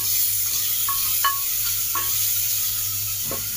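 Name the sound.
chopped tomatoes frying with onions in a pan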